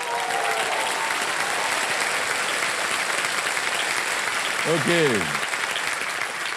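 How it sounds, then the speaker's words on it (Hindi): Studio audience applause on the KBC Season 15 quiz-show set, a steady dense roar of clapping for the full stretch, with a brief voice cutting in near the end. "हाँ, तो एक बार ताली बजाइए ना।"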